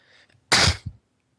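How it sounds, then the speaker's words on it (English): A double sneeze, one loud burst followed by a shorter second one, sounds close and clear against near silence. "Double sneeze."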